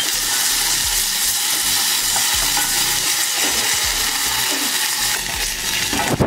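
Butter sizzles in a small hot pot, a loud, dense and steady frying hiss filling the whole stretch, ending in a brief metallic clatter.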